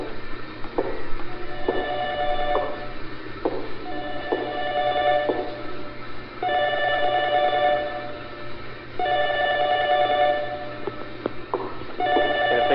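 A landline phone rings repeatedly in the Wii game Camping Juon (The Grudge), with loud, evenly spaced bursts of electronic ringing separated by short gaps and steady background hum.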